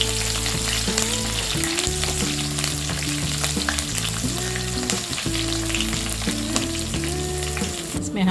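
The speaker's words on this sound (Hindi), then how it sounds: "इसमें हम डालेंगे ये 3 ग्रीन चिली फाइनली चॉप।" Finely chopped green chilies dropped into garlic already fried golden for burnt garlic jeera rice, giving a strong, unbroken sizzle up close with slight stirring, set against gentle background music.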